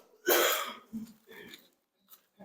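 A single sharp cough bursts out close by, followed by a few softer breathy coughs and throat noises, then quiet.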